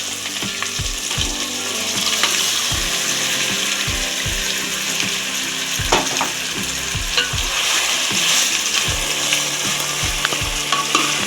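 Chicken pieces frying in hot oil in a pot, a dense continuous sizzle with repeated clanking stirs from a utensil against the pot, close and loud.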